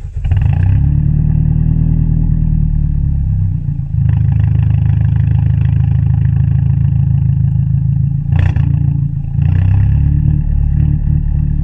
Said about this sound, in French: tu veux bien me montrer un petit peu le son de ta voiture, de ton échappement